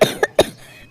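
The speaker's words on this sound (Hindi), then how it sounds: "वो खांसने लगता है" A cartoon pigeon coughs after drinking water turned bitter by flowers dropped in its tank: three short, close coughing bursts in quick succession, the last fading into a faint tail, with no talking.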